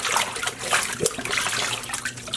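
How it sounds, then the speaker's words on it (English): Dyed yarn is lifted from a vinegar pre-soak bath, water splashing and trickling back into the pot in a short close burst with wet dripping throughout. "I am removing the yarn from the vinegar pre-soak"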